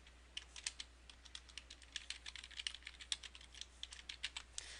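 Fingers tapping out a folder name on a computer keyboard, a quick irregular run of light, close clicks over a faint steady hum, with no voices.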